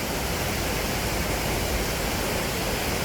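Flowing water at Hongjecheon stream near Segeomjeong pavilion in Seoul rushes in a dense, steady hiss, loud and unbroken throughout, with no voices.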